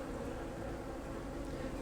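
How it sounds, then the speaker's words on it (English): Honey bees buzz steadily around an opened hive during an inspection after a split, a dense, continuous hum held at an even level throughout with no voices. "But these bees seem nice and calm."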